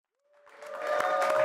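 Clapping from an audience swells from silence into loud, sustained applause, joined by a held tone near the start.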